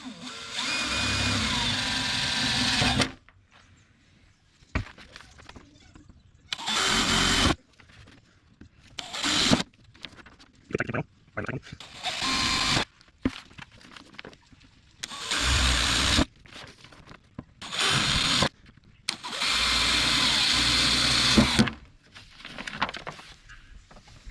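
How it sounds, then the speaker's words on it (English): A power drill bores pilot holes with a small bit while fitting a vehicle snorkel, sounding as a series of loud, close whirring bursts of a few seconds each, separated by quiet gaps. "you've got to drill out all these holes"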